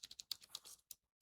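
A command is typed on a computer keyboard, a quick burst of about eight close, crisp keystrokes followed by a short pause and one final key press.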